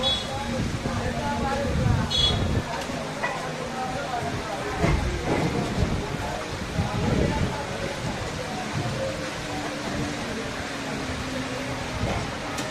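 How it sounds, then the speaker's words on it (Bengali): Steady, dense rain hiss fills the whole stretch, with a few scattered louder patters and clatters rising above the constant wash. "এই যে দেখেন কি বৃষ্টি হচ্ছে বাইরে"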